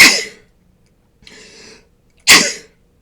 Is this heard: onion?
no